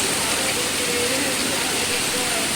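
Heavy rain pours down outdoors on a farm, a dense, steady hiss filling the whole stretch at constant loudness.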